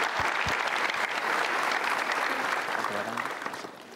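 Audience at an Indonesian motivational talk applauds steadily for the whole stretch, a dense sustained clatter of many hands that fades slightly toward the end, with a couple of low thumps near the start.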